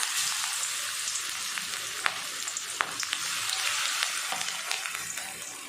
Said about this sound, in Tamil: நம்ம ஊற வச்ச சிக்கனை இந்த எண்ணெயில் சேர்த்துடலாம்